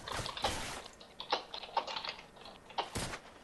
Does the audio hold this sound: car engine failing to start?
no